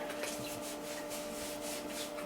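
Steady rubbing and wiping, a cloth hand-drying a wet vintage computer keyboard, scrubbing back and forth over its hard surface, close and continuous with no talking.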